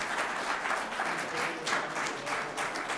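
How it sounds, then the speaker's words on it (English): An audience at a presidential library speaker event applauds a guest speaker, a dense, steady round of clapping filling the room without a break. "Please give Don Cogman a round of Thank you all applause."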